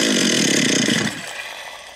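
A chainsaw with a carburetor fuel problem runs loudly at high revs close by, then abruptly drops to a lower, rougher idle after about a second.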